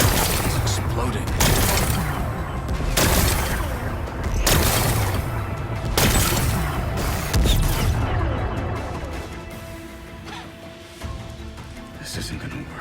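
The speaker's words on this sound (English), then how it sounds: "Gotta blast away some rocks, so I can expose the power cell." Rocks are blasted apart in the video game Horizon Forbidden West. Four heavy booming explosions come at roughly even intervals, each followed by rumbling debris, then things fade into quieter mechanical noise, with some talk mixed in.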